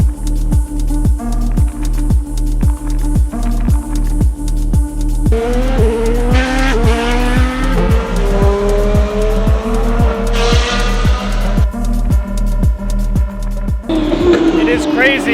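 Formula 1 race cars pass on the track at Abu Dhabi, rising and falling engine whines sweeping by repeatedly over a steady, rhythmic thumping background, loud and close.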